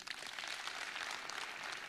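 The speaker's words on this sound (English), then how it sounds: "Let's clap for him" An audience at a Kenyan political gathering claps for a man praised as a liberation fighter, a dense, steady wash of many hands at a moderate distance, continuous with no voices.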